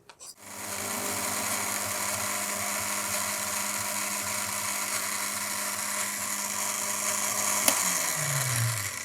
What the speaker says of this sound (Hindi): छोटा ग्राइंडर की मदद ले रही हूँ। इसको ग्राइंड करके क्रीमी शक्ल बना लूँगी